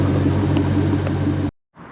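A Chevrolet C5 Corvette engine rumbles steadily while driving, a close, deep drone that cuts off abruptly near the end before faint noise resumes.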